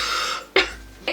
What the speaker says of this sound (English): I've got a cough coming.